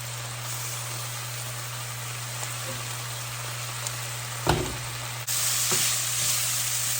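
Tofu kung pao stir fry with bok choy sizzles in a hot skillet, a steady crackling hiss over a low hum, broken by a brief clatter as the pan is handled and a louder burst of sizzle near the end.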